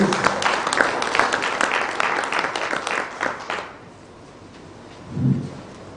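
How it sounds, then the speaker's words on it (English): A conference audience at a cyber security session applauds loudly for several seconds, then the clapping stops abruptly, leaving a quiet room and a brief low thump near the end. "Can we give him a round of applause?"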